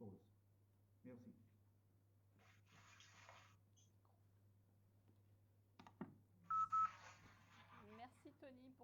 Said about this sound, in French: il y a le son d'un téléphone en fait dans le Zoom, Thomas.